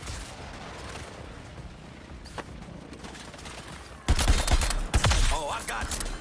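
Video game gunfire in Suicide Squad: Kill the Justice League, at first a low rumbling battle backdrop, then a loud burst of rapid shots and blasts erupts near the end.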